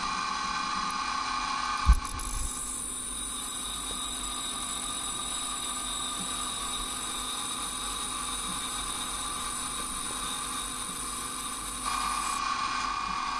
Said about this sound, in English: Let's start sharpening, removing layer by layer.